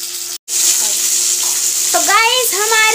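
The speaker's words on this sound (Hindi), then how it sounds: "तो गाइस हमारी मछली भुन चुकी है" Fish pieces fry in a pan with hot oil for a home-cooked fish curry, giving a loud, steady sizzle that cuts out for a moment, then continues while faint voice-like tones rise near the end.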